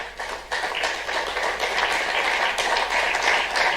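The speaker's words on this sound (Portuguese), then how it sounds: "Pausa para palmas ao Pedro. Eram fortes essas palmas" Dense, steady applause from an audience at a political speech, cheering Pedro Nuno Santos; continuous clapping fills all four seconds at even loudness with no talk over it.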